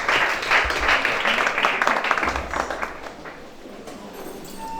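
Worshippers at a church service in Gabon break into loud, dense applause, heard as a sustained crowd clapping that tapers off toward the end, with some voices mixed in.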